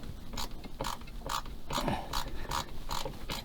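A lifeline stanchion bolt being unscrewed on a boat, giving a close, regular series of sharp ratcheting clicks, about two per second, over a low background hum.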